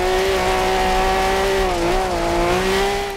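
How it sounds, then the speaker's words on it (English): Race car in Forza Horizon 2 held at full throttle, a loud continuous engine roar at high revs with a brief dip in pitch midway before it steadies again, close and without talk. "Flat on the gas all the way around here."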